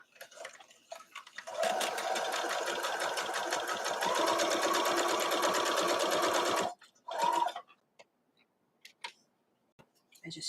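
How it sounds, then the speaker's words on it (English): A sewing machine with a quarter-inch foot stitches in a loud, steady run for about five seconds, stops, then gives a short burst before a quiet pause. "I just sew off, turn it, do it again, all the way around."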